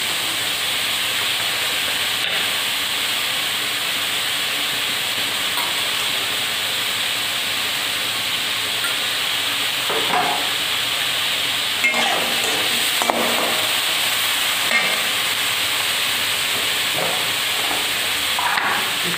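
Onion, potato and capsicum frying together in a pan, a steady hissing sizzle that runs throughout, with a few scrapes and clatters of stirring in the later part and no one speaking.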